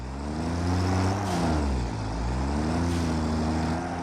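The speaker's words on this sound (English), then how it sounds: "Let's go, tractor." A tractor drives along in the game Satisfactory, its steady engine drone rising and falling in pitch as it accelerates and slows, loud and continuous with no talking.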